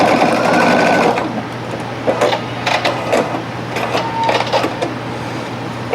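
A sewing machine stitches a denim bucket hat made from upcycled jeans, running in a long steady burst, then in short rhythmic bursts of fast stitching with brief pauses, close and clear.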